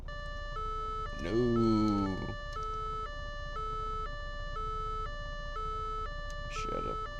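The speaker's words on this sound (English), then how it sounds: "The actual siren, I believe, was a high-low" A 1966 Gavril Bluebuck model car sounds a high-low siren, a steady two-tone alternation repeating through the clip, with people briefly talking over it near the start and again at the end.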